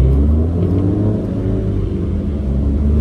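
A Toyota GR86 engine pulls in first gear with a deep, close rumble and rising revs inside the car during a night drive.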